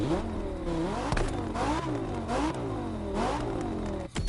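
A Lamborghini Gallardo in The Crew Motorfest revs hard through a series of upshifts, each pull climbing in pitch before a quick drop, loud and continuous with no voices, a brief dip near the end.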